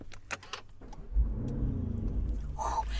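Engine of a Mansory-modified Lamborghini Urus with a changed exhaust system, a steady low rumble building after a thump near the start, with a few jangling clicks early on.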